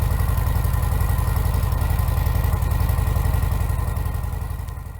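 A 2020 Harley-Davidson Heritage Classic 114 cubic-inch V-twin idling through stock exhaust pipes: a loud, close, lumpy low throb with steady uneven pulses, fading slightly at the very end, with no voices.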